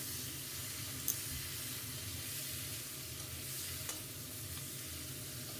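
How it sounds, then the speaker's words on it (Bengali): Potatoes and eggplant frying in a pan, a soft continuous sizzle with faint stirring scrapes and a couple of light knocks, close but quiet, with no speech. "ভেজে নিয়েছি আমি আলু"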